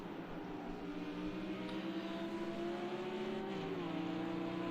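GT3 race cars in Project CARS 2 roar down the straights at Bathurst with a steady, droning engine note that climbs slightly and then eases, at a moderate level.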